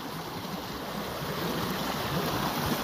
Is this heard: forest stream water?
yes